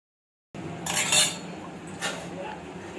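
A metal spoon scrapes and clinks against a cooking pot of coriander rice as it is stirred, then a lid clanks down onto the pot, close and fairly loud with no voices.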